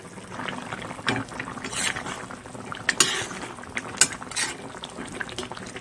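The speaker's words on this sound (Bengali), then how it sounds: "মাছের ঝোলটাও একটু নাড়াচাড়া দিয়ে 2-3 মিনিট পর নামিয়ে নিচ্ছি" Fish curry is stirred in a pot, with a spoon scraping and clinking against the metal over a soft, steady bubbling of simmering liquid, and a few sharper knocks come through close up.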